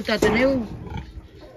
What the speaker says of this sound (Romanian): Ia uitați-vă, dragi prieteni, porcușorul meu.